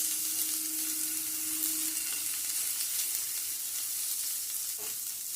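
Chopped capsicum stir-fried with carrot and onion in a pan, a steady close sizzle and hiss with faint stirring scrapes and one small knock near the end, no voices.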